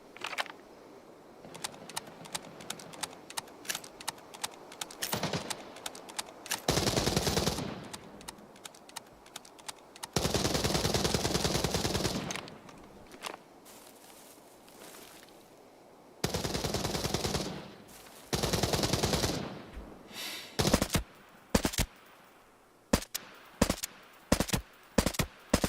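Bursts of automatic gunfire and single shots in the shooter game Arena Breakout: Infinite, loud and close, with rapid rattling volleys broken by short pauses and scattered lone cracks.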